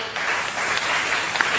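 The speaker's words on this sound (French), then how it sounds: "Applaudissez pour le Seigneur." Church congregation applauding the Lord during a French-language sermon, a loud, continuous burst of clapping filling the room throughout the short moment.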